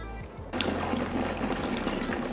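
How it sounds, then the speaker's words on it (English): Antifreeze coolant draining from the radiator of a Chevy HHR, a steady close trickle and splash of liquid that begins abruptly after a short quiet moment and continues evenly. "So we got that draining for now"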